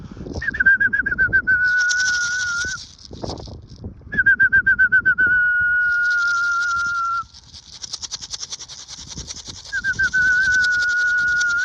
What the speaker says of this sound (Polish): Kolejne gołębie dwa przyszły teraz, ale krążą długo już dosyć.